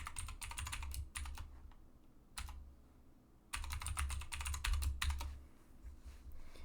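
A password is typed on a computer keyboard during a KDE Neon Linux install in VirtualBox. Quick bursts of close, crisp keystrokes are separated by short pauses, with no talking.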